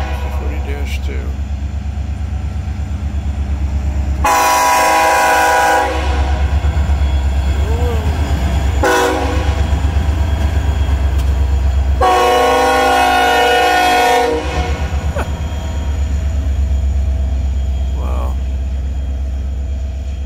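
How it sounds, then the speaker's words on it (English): An EMD SD40-2 locomotive, Norfolk Western 6126, sounds its Nathan K5LLA air horn in two long loud chordal blasts with a short toot between, over a steady low rumble of the passing train. "Here's the K5LLA air horn in Sd40-2."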